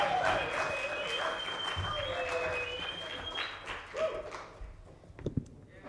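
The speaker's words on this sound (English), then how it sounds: "please have a warm applause" An audience claps warmly for a jazz quartet at a live concert, a fairly soft and continuous applause with a few voices and cheers rising through it before it thins out.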